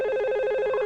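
A telephone rings indoors in a Marathi drama film, a steady electronic ring with fast repeating pulses, fairly loud and close, with no talking over it.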